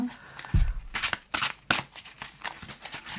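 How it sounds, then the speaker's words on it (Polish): Tarot cards being shuffled and drawn by hand, giving several crisp riffling and snapping bursts with soft card slides between them, close and fairly quiet, with no talking. "Ja na tą piątkę jeszcze tu mam ochotę dociągnąć karty."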